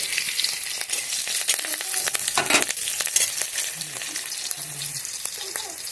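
Black cumin and green chilli frying in hot oil for a vegetarian dish, a steady broadband sizzle with crackles and stirring scrapes throughout, close and fairly loud, with a few faint background tones.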